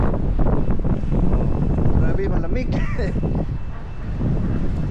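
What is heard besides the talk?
strong wind blowing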